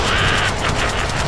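A huge gun in the Deadpool video game fires a rapid, loud burst of shots that crackle in quick succession, mixed with a brief rising whine and other game sounds.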